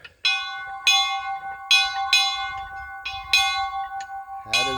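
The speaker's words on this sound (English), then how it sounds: "we installed Mama's emergency bell" A family heirloom emergency bell rings out loud and close in a series of bright, resonant strikes at an uneven rhythm, each with a long shimmering decay, used as a call for actors to gather; no talking.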